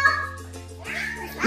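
A pet kitten meows indoors, a drawn-out close cry followed by a second higher-pitched mew, with faint background noise.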